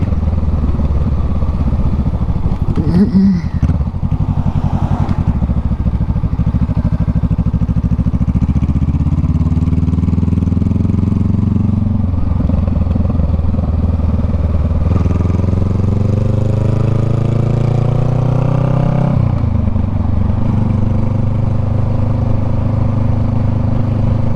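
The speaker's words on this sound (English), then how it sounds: "Obnoxious, just like every Honda, you know, it's just farty and loud" Loud Honda engine running nearby in a steady, raspy drone, pitch rising and falling as it revs, continuous throughout with no talking.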